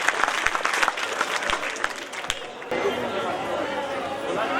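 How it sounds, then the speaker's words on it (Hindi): Applause from a school annual day audience welcoming a teacher at a public school function: dense clapping mixed with crowd chatter, then a brief pause and a fuller crowd murmur continuing underneath. "भरपूर तालियों के दरमियान निशात मैम"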